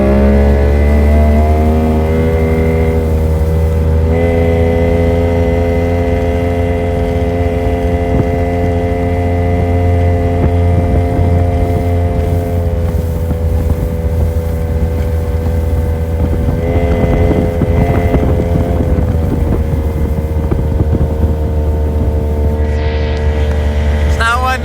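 A Tohatsu 50 outboard motor on an Addictor Bambino 333 boat runs loud and steady at about 5,200 RPM, a continuous droning engine note with wind noise over it and no letup.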